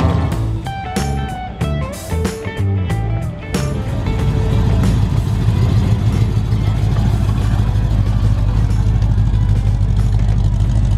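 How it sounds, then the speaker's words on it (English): A classic Chevelle Super Sport rolls past at an outdoor classic car show, its engine building into a loud, steady rumble that grows closer after a few seconds of lighter background clatter and then sustains to the end. "Nice Chevelle Super Sport driving by here"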